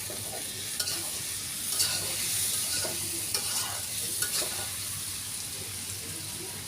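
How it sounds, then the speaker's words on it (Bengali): Vegetables for khichuri frying and being stirred in a pan, a steady sizzle broken by scraping spatula strokes, close and alone with no talk. "সব কিছু ভাজা ভাজা করে নেব"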